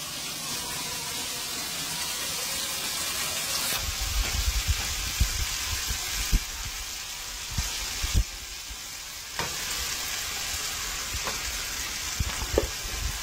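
Garlic sizzles in a hot pan while shrimp and cabbage are cooked for dinner: a loud, steady frying hiss with scattered clicks and taps from stirring.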